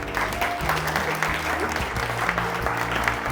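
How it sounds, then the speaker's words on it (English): Audience giving a round of applause, sustained loud clapping from a crowd with musical tones underneath, continuous and close. "So can we get a round of applause, please?"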